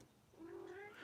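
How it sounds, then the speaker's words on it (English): A pet cat chirps faintly in the background of an indoor room, one short rising trill lasting under a second, with no talk over it. "Do you hear the chirping in the background? That's my cat wanting to play."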